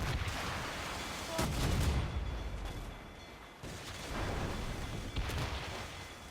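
Ship cannons fire in the naval combat of the video game Assassin's Creed Rogue, with several heavy booming blasts and rumbling impacts over steady sea and wind ambience.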